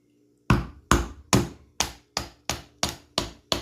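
A thick-stocked Brothers FO17 camp knife with a saber grind is driven through wood in nine crisp, evenly spaced thwacks after a brief silence, each hit loud, close and quickly decaying.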